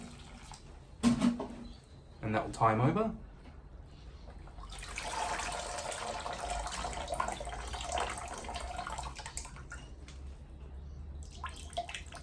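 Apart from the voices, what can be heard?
watering a succulent plant in a clear pot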